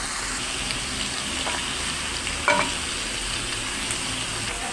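Potato curry (aloo dum) with powdered milk being stirred in a hot pan, a steady close sizzle with a soft spoon scrape partway through, no voices.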